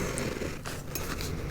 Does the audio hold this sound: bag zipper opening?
yes